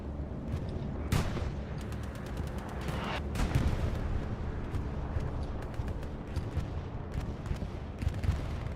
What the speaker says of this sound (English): I hear a bombing run.